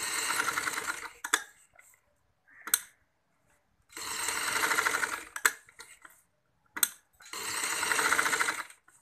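A sewing machine stitches elastic into a trouser waistband in three close, loud bursts of rapid whirring, separated by quiet gaps with small clicks of handling.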